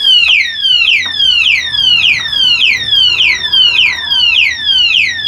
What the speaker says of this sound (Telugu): లౌడ్గా అలారం అనేది వస్తుంది